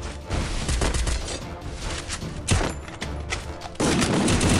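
Rapid, dense gunfire bursts in the Free Fire battle game, with a sharp, loud shotgun blast around the middle among continuous shooting and impacts, close and heavy with no pause.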